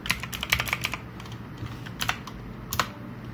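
Quick, light clicks of typing on a computer keyboard, a short burst of keystrokes followed by a few scattered taps, close and fairly quiet with no voices.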